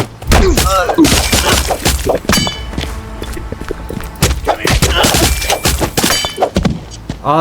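Gunfire in a video game: a dense run of sharp shots and thudding impacts with a few shattering crashes, coming in irregular bursts that stay loud from start to finish.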